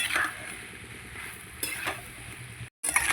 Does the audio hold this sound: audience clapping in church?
no